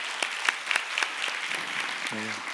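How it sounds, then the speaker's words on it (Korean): Applause from a church congregation at a young adults' worship service after a sand art performance, a steady mass of clapping throughout with a brief tonal sound near the end. "큰 박수 하겠습니다"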